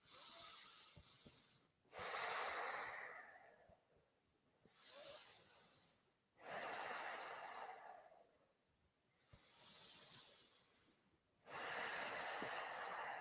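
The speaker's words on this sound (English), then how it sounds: "Nice few deep breaths." Slow, deep breathing during a morning yoga stretch, heard close with long hissing inhales and exhales alternating about every two to three seconds, no talking.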